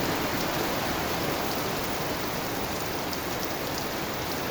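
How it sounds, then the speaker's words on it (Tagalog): Heavy rain pours steadily with a dense, unbroken hiss of drops hitting surfaces, loud and constant from start to finish. "Lakas ng ulan."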